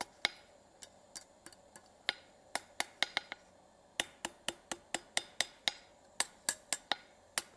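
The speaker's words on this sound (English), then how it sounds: "Hammer on top to sweeten that finial piece back up, or the spine" Sharp, ringing hammer taps on forged metal for a toilet paper holder finial, struck in quick irregular bursts with short pauses, close and crisp against a quiet background.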